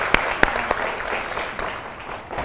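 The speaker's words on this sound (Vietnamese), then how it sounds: "Một tràng pháo tay cho cô ấy là một đoạn nhé mọi người nha." Audience applause for a young woman about to sing on a Vietnamese dating show stage, a steady wash of clapping with a few sharp claps standing out near the start, moderately loud throughout.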